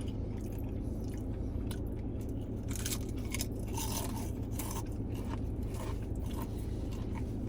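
Crispy, crunchy crab rangoons being bitten and chewed close to the mic, with steady crunching and scraping bites over a constant low background hum.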